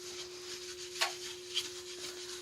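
Scratch cover polish is rubbed onto the finish of a Slingerland drum shell, with two short soft rubbing strokes over a steady electrical hum in a quiet room.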